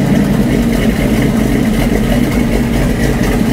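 383 V8 in a 1962 Chevrolet C10 pickup idling just after startup, a steady close rumbling idle with a slight lope and no voices.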